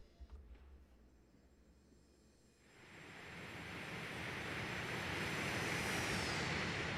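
Simulated MD80 airliner flying past in X-Plane 11, a faint distant rumble that swells into a loud, broad jet roar building steadily toward the end.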